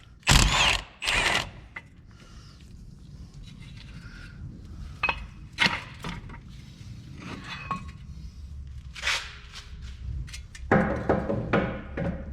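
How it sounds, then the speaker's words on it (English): Ratchet and socket work on 21 mm caliper bracket bolts during a Buick Verano wheel bearing replacement: sharp metallic clanks and bursts of ratcheting clicks, separated by quieter handling of tools and parts. "21 millimeter to remove the caliper bracket bolts."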